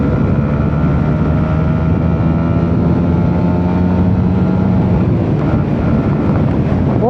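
A Honda motorcycle pulls hard in third gear during break-in riding, a loud steady engine drone mixed with heavy wind rush, its pitch climbing slightly throughout.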